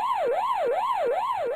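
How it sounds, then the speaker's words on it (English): Wailing electronic siren from the Pac-Man arcade game, a loud, clean tone sweeping up and down in fast regular cycles, about four swoops in quick succession with no talking. "Why is there so police sirens?"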